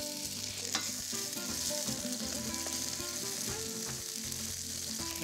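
Onions frying in a pan give off a close, steady hiss and crackle, with clinks and scrapes of stirring mixed through, and no one speaking.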